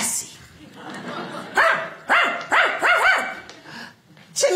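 A man imitates a dog barking like the TV collie Lassie, giving a quick series of four or five loud, close bark-like yelps with short gaps between them, surrounded by talk.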